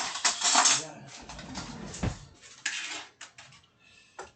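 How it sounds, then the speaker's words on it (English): Spoon clinks and scrapes against a bowl while mixing ingredients for a baked dragon pie, with several bright metallic taps, stirring sounds close by and no talking. "On va utiliser une cuillère."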